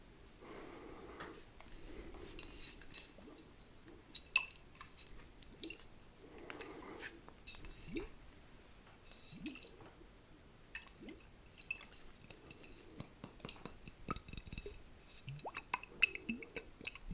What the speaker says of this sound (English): I love the sound of blooping water or liquid.